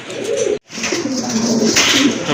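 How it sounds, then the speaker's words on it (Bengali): A pair of large yellow Lahori pigeons coo close by in low, throaty, rolling calls, one continuous phrase after a brief pause, with faint background noise. "অনেক বড় সাইজের এক জোড়া লাহোরি কবুতর, ইয়েলো কালারের ভিতরে"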